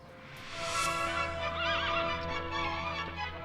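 Horses neighing loudly and close by, a long whinny rising and falling with overlapping harmonic calls over a steady low hum, continuous for several seconds.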